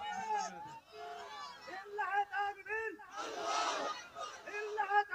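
Crowd at a Bengali religious gathering shouts takbir together, a loud massed roar rising midway between bursts of excited chanting voices and shouted speech.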